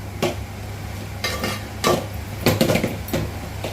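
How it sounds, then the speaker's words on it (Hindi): A spoon scrapes and clinks against a pan as makhana and dry fruits are stirred over a slow flame for seviyan, in irregular scraping strokes with a faint sizzle underneath. "मखाना एक एक दो दो डाल देंगे, उसको चलाते रहेंगे"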